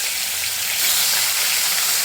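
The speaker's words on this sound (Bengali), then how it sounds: "মাছগুলো আমি ভেজে তুলে নেব।" Fish fries in hot oil in a kadai, a loud, dense, continuous sizzle that swells slightly partway through, close up with no voices.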